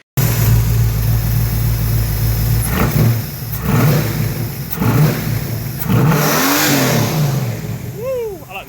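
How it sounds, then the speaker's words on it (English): A car engine, just switched from Holley fuel injection back to a carburetor, revs high and hangs on a stuck throttle, a loud sustained roar with surges and dips throughout, and voices briefly join near the end. "Throttle hung. Revved on a little too much."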